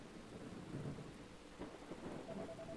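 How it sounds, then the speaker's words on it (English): Steady rain and low rumbles of thunder fill a Dragon Quest 7 game scene, a quiet continuous wash of falling water with faint rolling booms and no voices. "This is just regular rain, dang it."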